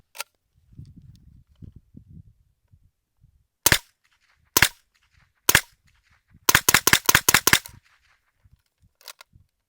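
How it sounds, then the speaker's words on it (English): A suppressed MP5 with a Dead Air Wolfman suppressor fires supersonic rounds outdoors: single sharp cracks, then a quick string of about five close, loud shots, with some rustling between them. "We're going to shoot 5 supersonic, and then we'll do 5 subsonic to compare."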